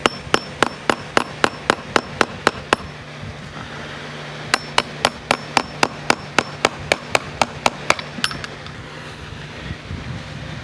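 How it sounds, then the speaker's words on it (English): A hammer strikes a cheap half-inch chisel into rotten wood on an old Victorian porch, sharp evenly spaced taps in two long runs, close and loud, with a brief pause between. "this is pretty bad, so I'm going to try chiseling some of this out."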